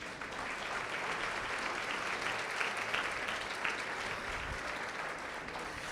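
Church congregation applauding during a Spanish-language sermon, a dense, sustained wash of many hands clapping at once that holds steady for several seconds with no speech over it.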